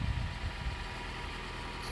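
A Toyota Prius engine idles steadily after an engine wash, held running to dry out, giving a low, even rumble close by with no speech.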